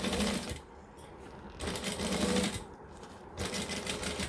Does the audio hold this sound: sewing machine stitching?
yes